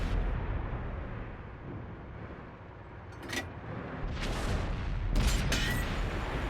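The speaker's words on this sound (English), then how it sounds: "I am so happy I had HE shells loaded for that shot." Distant booming shots from a Type 5 Heavy tier 10 Japanese heavy tank firing HE shells in World of Tanks, with two or three muffled blasts and bursts over a steady rumbling battlefield background.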